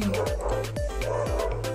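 Dogs bark loudly and close by in a quick repeated series of sharp woofs, about six in under two seconds, with no talk over them.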